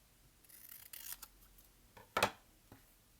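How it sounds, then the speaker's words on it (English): Scissors snip through paper craft strips for a watermelon craft, giving a few faint, quiet cuts with one crisper snip near the end. "I'm going to cut this one in half."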